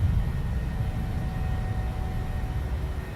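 An airplane in Microsoft Flight Simulator 2020 takes off from Cape Town, producing a steady, loud, low engine roar that holds constant throughout with no talking.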